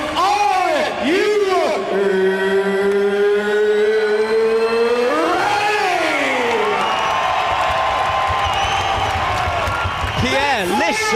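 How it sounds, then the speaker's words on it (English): A big arena crowd roars and cheers at a BAMMA MMA event in Birmingham, England, with sustained whoops and noise under loud horn-like tones. "Listen to that crowd."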